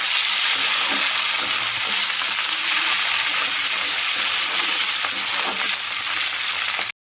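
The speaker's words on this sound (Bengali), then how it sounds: "তো এদিকে হালকা করে টমেটো আর পেঁয়াজটা একটু ভাজা ভাজা হয়ে এসছে।" Chopped onion and half a tomato sizzle steadily in a pan while a pasta sauce base cooks, a dense, even frying hiss with occasional stirring scrapes, close and loud throughout before cutting off at the end.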